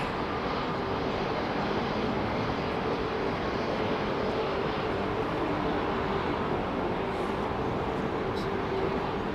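An aircraft taxiing at London Heathrow Airport, a broad steady engine rumble and whine heard from a distance, unchanging throughout.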